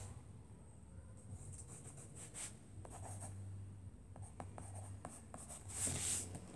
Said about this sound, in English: So I'm just gonna sketch this out